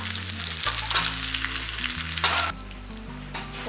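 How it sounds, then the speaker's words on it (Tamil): Curry leaves sizzle in hot oil as a tempering for mutton kuzhambu, a steady, close crackling fry with the hiss easing briefly partway through, and no voices. "நம்ம எடுத்து வச்சுருக்க 2 இனுக்கு அளவுக்கு கருவேப்பிலையை இதில் போட்டுடலாம்"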